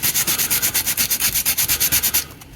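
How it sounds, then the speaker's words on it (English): Rapid rhythmic back-and-forth sanding on a detail piece of an HO scale model railway layout, close and loud with about twenty quick even strokes before it stops. "one of the things you can do is sand it"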